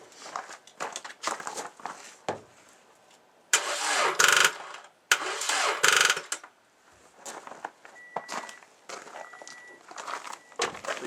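A car with a dead battery fails to start, the key turned for two short bursts of weak cranking and clicking between quieter handling noises, close and clear with no talk.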